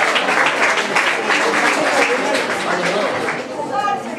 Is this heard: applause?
yes